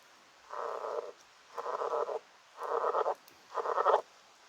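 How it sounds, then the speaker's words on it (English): A frog croaks near a river, four evenly spaced rasping calls about a second long each, fairly close against a quiet background. "Apparently there's a frog here somewhere."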